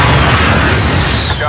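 A loud, sustained rumbling blast from an airstrike in Call of Duty: Modern Warfare fills the brief moment, dense and booming with a rolling low-end, as a voice talks over it.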